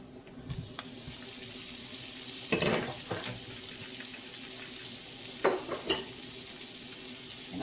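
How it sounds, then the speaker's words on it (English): Shrimp going into a hot pan for breakfast shrimp and grits, over a low background hiss, with two clear splashy bursts of sizzling and clatter a few seconds apart. "And I'm going to add my shrimp."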